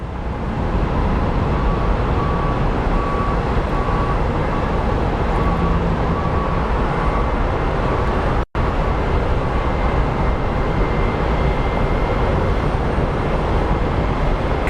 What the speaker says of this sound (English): Coming in from St. Louis in an Airbus A319.